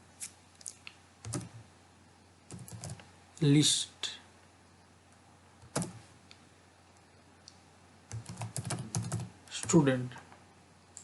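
Code is typed on a computer keyboard in quiet, irregular clusters of key clicks during a programming lesson, close and soft, while someone speaks between and over the taps.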